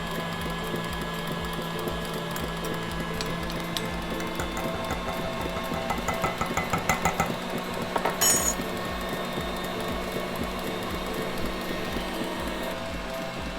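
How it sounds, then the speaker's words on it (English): An electric mixer whips marshmallow mixture with a steady, even mechanical whirr running the whole time, moderately loud, with a few faint clinks and clatters on top. "mixer is still mixing behind us"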